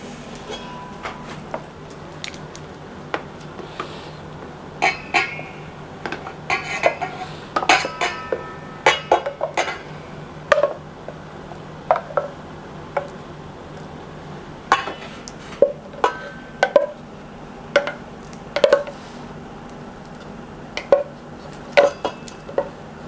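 Toothpowder mixture being stirred together in a bowl, giving repeated light scraping and clinking knocks against the bowl at an uneven rhythm, close by and moderately loud over a steady low hum.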